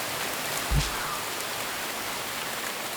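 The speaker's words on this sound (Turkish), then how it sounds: "Yağmur yağdı." Rain falls in a prehistoric survival strategy video game, a soft, steady hiss of drops that stays quiet and even throughout, with one small thump early on.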